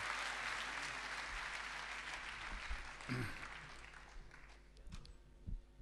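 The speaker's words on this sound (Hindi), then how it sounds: "भरपूर तालियों से स्वागत करें भाई राहत इंदौरी।" Applause from a mushaira audience greeting poet Rahat Indori at a Delhi poetry gathering: a broad wash of clapping that gradually thins and fades over several seconds, with a few scattered louder claps near the end.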